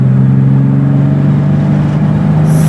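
A BMW E36 on a road drag run pulls hard at full throttle, loud and close. The engine drone holds steady and climbs slowly, with a brief high whine at the very end.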